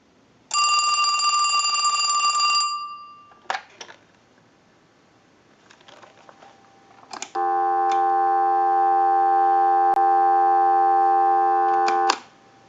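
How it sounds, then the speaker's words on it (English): A steady telephone dial tone holds for about five seconds on an AT&T Trimline line hooked to an analyzer, following a short burst of bell ringing and a few handset clicks. "we'll give you some dial tone"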